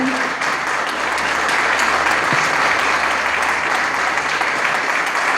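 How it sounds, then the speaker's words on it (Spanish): Audience applause fills the whole stretch after a book presentation, a steady, dense clapping from a room full of listeners with no voices over it. "un aplauso a Ariel por la presentación."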